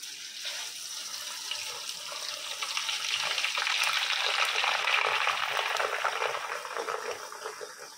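Grated coconut with a few cardamom pieces frying in about 100 grams of hot coconut oil, a steady close sizzling hiss that swells louder midway and eases slightly toward the end, with no talk.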